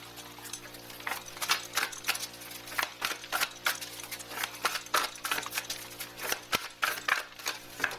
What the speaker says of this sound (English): Pre-shuffle these cards.